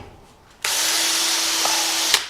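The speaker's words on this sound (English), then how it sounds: "It's just a wire wheel on a drill." A wire wheel on a drill spins up abruptly and runs with a loud, steady hissing whir for about a second and a half, then stops.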